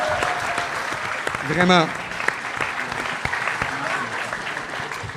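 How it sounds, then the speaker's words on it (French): A festival audience at a comedy show applauds steadily and densely from start to finish, with one brief voice cutting through the clapping. "Donnez-vous une main d'applaudissement pour ça"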